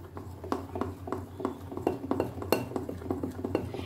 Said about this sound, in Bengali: 1 চামচ মতন জল দিয়ে এটাকে খুব ভালো করে আরেকবার ফেটিয়ে নিতে হবে।